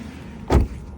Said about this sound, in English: I'll try to close the door.